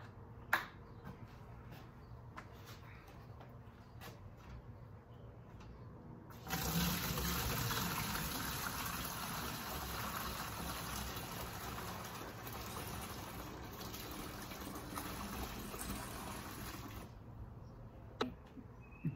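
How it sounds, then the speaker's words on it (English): Liquid lawn fertilizer pours into a container as a loud, steady rushing splash that starts suddenly partway through, runs for about ten seconds and then stops, with a few small clicks before and after. "So let's pour the Super Juice in."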